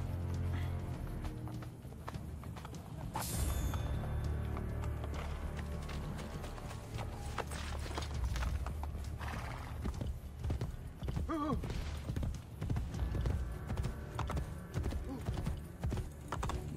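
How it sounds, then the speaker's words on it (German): A horse gallops in the Assassin's Creed Brotherhood video game, its hooves clip-clopping in a quick, steady rhythm over other game sounds. "reiten wir jetzt mal wirklich äh, zu Salai, beziehungsweise zu dem Treffpunkt mit Salai"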